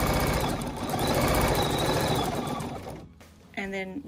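A sewing machine stitches in a rapid, steady whir while free-motion quilting in the ditch, running continuously close up before cutting off near the end, followed by a short burst of other sound.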